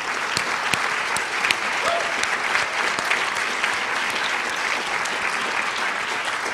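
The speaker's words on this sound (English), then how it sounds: "So if we could just give a round of applause to all of you." A theatre audience applauds in steady, dense clapping that fills the hall, sustained at an even level throughout with no talk over it.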